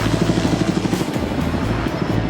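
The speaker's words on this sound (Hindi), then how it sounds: "ये हेलीकॉप्टर हमारे बॉयज को ऊपर हवा में ले जाएगा" A helicopter flies above a private island, its rotor giving a steady, fast chopping throb that stays loud and close the whole time with no talk.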